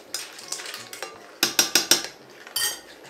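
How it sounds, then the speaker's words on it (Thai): Seafood spaghetti is stirred in a pan, with repeated bright clinks and scrapes of a utensil against the metal, several close sharp strokes in quick bursts and no talking. "คนให้เข้ากันจ้ะ"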